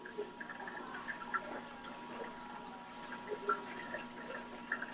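Water being poured into an autoclave's reservoir, a soft continuous trickling and gurgling with small splashes at close range.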